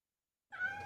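Within a radio advert, a cat lets out a single short meow that starts abruptly after a brief silence, close and clear, with no talk.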